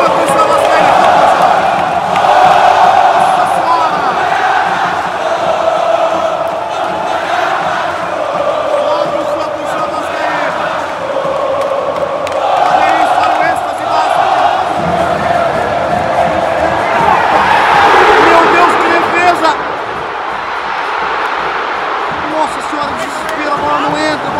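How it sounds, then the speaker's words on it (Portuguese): Vasco football supporters fill the Maracanã stadium with a steady, loud roar of crowd noise, cheering and chanting throughout with a swell of excitement near the end. "A torcida comemora agora, mas fica brava com o juiz aqui."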